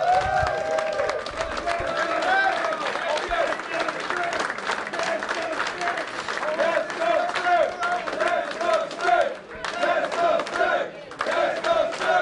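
A wrestling event crowd cheers, shouts and applauds loudly and continuously, with dense clapping and whoops filling the hall, dipping briefly before surging again.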